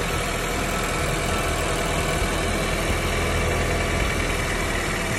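A Vauxhall car engine idles with a steady, continuous hum and a faint rhythmic knock, heard alone and fairly close with no speech throughout.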